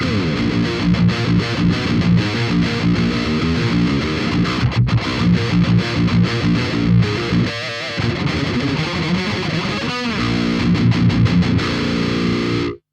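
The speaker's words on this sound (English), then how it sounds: "we'll listen to the guitar into the amp" A distorted electric guitar plays continuously through a Marshall Silver Jubilee tube amplifier with a BOSS GT-1000, thick and loud metal chords ringing out for the whole stretch.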